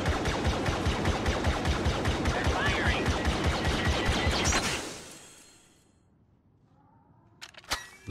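Rapid, rhythmic bursts of blaster gunfire from a rifle in Star Wars Battlefront fire for several seconds and then stop abruptly, followed by near silence and a couple of sharp clicks, with a voice speaking over the shots.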